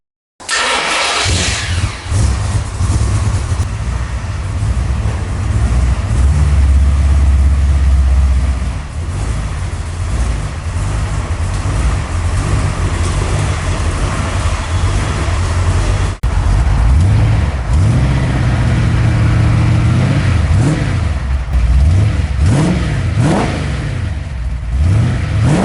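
A custom 1959 Ford F100 4x4 with a new stainless steel exhaust idles loud and close, then revs repeatedly in rising and falling bursts over a steady deep rumble, with no talking.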